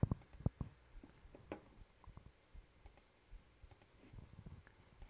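Computer mouse clicks sound in quick, irregular bursts close up, sharp small taps with a few louder ones at the start, quiet between them and no one talking.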